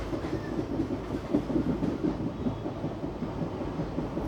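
The Koyna Express runs on the tracks near Mumbai with a steady, close rumble and soft rhythmic clatter of the wheels, heard continuously from aboard the train.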